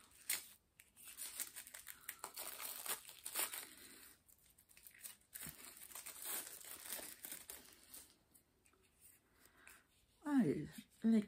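A package of cards is torn and opened by hand, with close crinkling and tearing of wrapping in bursts, then quieter rustling, as someone speaks briefly at the end.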